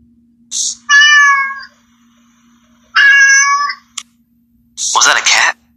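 A cat meows three times, loud and close, with short pauses between the calls and near silence around them.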